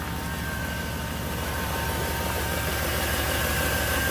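Idling engine of a 2002 Chevy 2500HD with a small exhaust leak: a steady, close, loud rumble with an even throb and a constant hissy wash on top, unchanging throughout.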